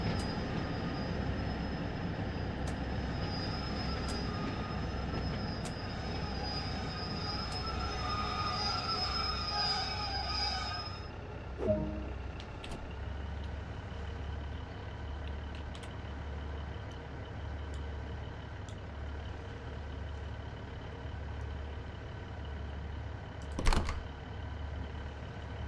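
A Class 150/2 diesel multiple unit idling at St Ives station in Train Sim World 2, a steady low engine rumble with a high whine fading out midway and a couple of brief clanks and hisses.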